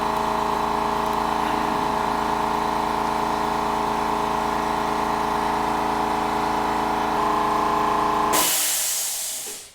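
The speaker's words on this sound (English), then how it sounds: "As my compressor just kicked on" An air compressor in a resin-casting workshop runs with a steady humming drone and a hiss that holds for most of the clip, then switches to a brief burst of broadband hiss before cutting off.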